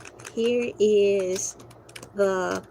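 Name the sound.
typing on a computer keyboard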